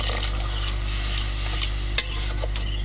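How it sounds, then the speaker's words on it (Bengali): Goat fat sizzles steadily in a pan as a little water goes in, a bright hiss with soft stirring scrapes and one sharp clack partway through. "অল্প করে জল দিয়ে দিচ্ছি হ্যাঁ"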